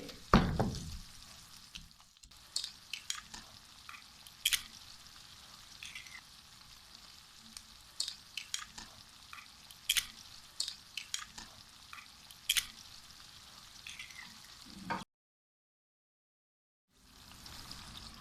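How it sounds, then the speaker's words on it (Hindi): Eggs frying in a pan with cooked onions, a steady soft sizzle with scattered crackles and light stirring clicks, close and alone, ending in a short silence. "प्याज अच्छे से पक चुकी है, तो अब हम इसमें डाल देते हैं अंडे।"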